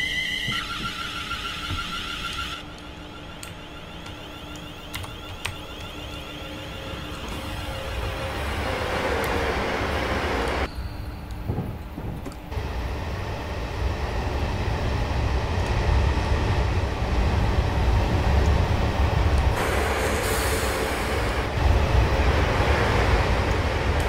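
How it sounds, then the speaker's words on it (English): Virgin trains in the Train Simulator 2019 video game pass at speed: a rising, sustained rumble of a train rushing by with clattering wheels, sharp tonal whistle-like notes early on and a continuous loud roar toward the end. "Virgin trains blast past us."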